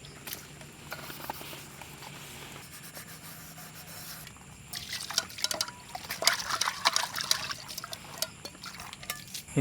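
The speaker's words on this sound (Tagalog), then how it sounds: "hanggang ngayon hindi pa humihinto yung ulan" Rain keeps falling at a campsite at Camp Connorwoods in Norzagaray, Bulacan, a soft continuous patter that swells into denser, louder splashing and dripping partway through, close by with no talk.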